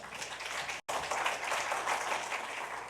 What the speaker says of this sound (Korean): 뜨겁게 박수로 한번 우리 함께 환영하며 모시도록 하겠습니다